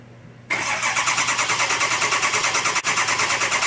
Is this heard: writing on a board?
no